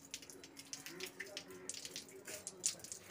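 Water splashes and trickles as a small freshly picked leaf is rinsed by hand, soft close splashing and drips at low volume.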